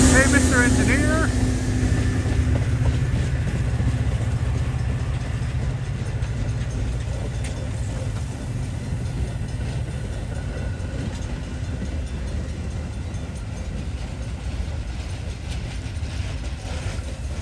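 A Metra commuter train rumbles past a railroad crossing in Manhattan, Illinois, with a rolling mechanical drone and rattling wheels that start loud and ease slightly but continue throughout. A brief high horn-like tone comes at the start.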